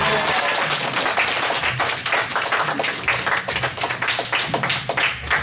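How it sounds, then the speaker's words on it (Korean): A church congregation in Atlanta claps to welcome a visiting pastor at a revival meeting, a loud, sustained wash of many hands with some individually distinct, rhythmic claps near the front. "할렐루야 하면서 박수로 맞아 주시기 바랍니다"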